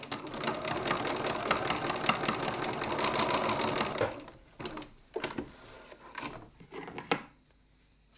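A sewing machine stitches across the ends of leather wallet straps in a steady, fast run of needle strokes, then stops and gives a few short bursts with quiet handling noises between them.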